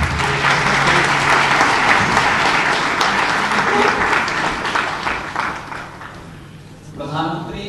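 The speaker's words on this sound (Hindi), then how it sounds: "जोरदार तालियों के साथ" A large crowd gives loud, sustained applause at a public government event where the Uttar Pradesh chief minister distributes urban housing scheme funds. The clapping fades toward the end, and a voice briefly follows.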